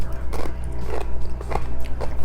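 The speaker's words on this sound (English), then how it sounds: "hopefully you can hear me chewing right now, for the only purpose of knowing that these are crunchy." Close-up crunching as someone chews crisp homemade keto cheese crackers, about four distinct crunchy bites in a steady rhythm with no talking.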